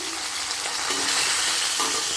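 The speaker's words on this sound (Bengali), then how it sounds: "এইদিকে মাছ ভাজতে বসিয়ে দিয়েছি।" Fish frying in a pan at home, a steady, close crackling sizzle that fills the clip with dense hiss, with a few faint pops and no voices.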